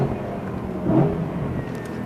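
A BMW M3 GTS engine drones steadily up close on a track, swelling briefly louder as it revs, with road and wind noise underneath.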